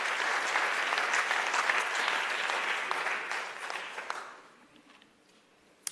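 A convention audience at a youth trade event applauds the speakers, a dense loud wave of clapping that holds for about four seconds, then fades quickly to scattered claps and quiet.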